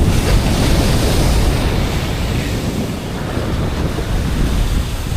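Continuous wash of Pacific Ocean waves with strong wind buffeting the microphone, loud and steady, no talking.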